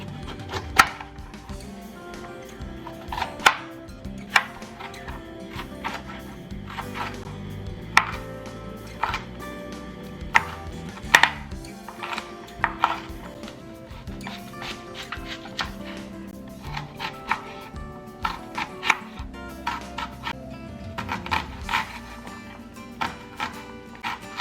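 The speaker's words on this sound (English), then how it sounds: "It's time to chop our veggies." Knife chopping vegetables on a cutting board for white chicken chili, a long run of close, sharp, irregular taps.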